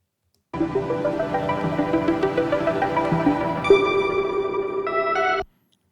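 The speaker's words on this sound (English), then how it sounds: "So that's the percussion drop." An electronic passage of repeating tonal hits and ticking percussion builds steadily, adds bright high notes near the end, then cuts off abruptly.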